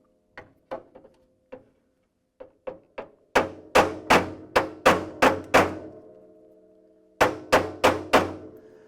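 Hammer blows ring out on thin Ford Mustang body sheet metal: a few lighter taps, then a run of loud, evenly spaced clanging strikes with short ringing tails, a pause, and more.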